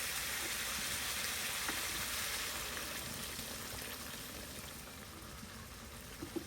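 A curry of singi fish with Malabar spinach and pumpkin leaves bubbles and sizzles softly after hot water is poured in, a faint, even simmer with an occasional small pop, easing off a little toward the end.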